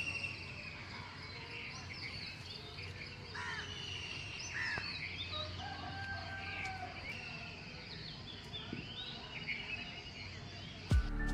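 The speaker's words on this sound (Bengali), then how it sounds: "আপনি শুধুমাত্র পাখিদেরই গান শুনতে পারবেন" Birds sing faintly in a calm dawn setting, with sparse chirps and calls over a soft insect hum and a quiet background.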